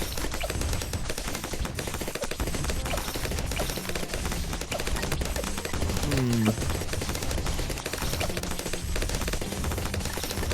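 Rapid gunfire from towers in the video game Bloons TD 6, a dense continuous barrage of shots layered over game music and effects, with a voice talking over it.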